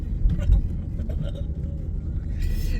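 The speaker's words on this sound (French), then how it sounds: "Bon, on est en voiture. Le monsieur conduit." Inside a moving car, a low steady road and engine rumble fills the cabin at moderate level, with faint rattles and brief bits of background sound throughout.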